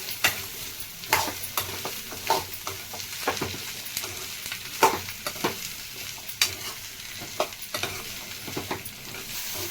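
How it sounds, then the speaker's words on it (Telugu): Ivy gourd pieces fry with onions in a pan, giving a continuous sizzle under repeated scraping strokes of a spatula. The stirring falls in an irregular rhythm of distinct scrapes, close up with no voices. "ఇప్పుడు దొండకాయలు వేసుకుందాం, వేయించుకుందామండి."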